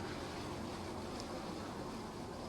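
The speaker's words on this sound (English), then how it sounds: "You just sit down here and listen to the water go." River water flows steadily at a riverside spot with murals and benches, a dense, unbroken rushing wash that holds at an even level throughout with no voices.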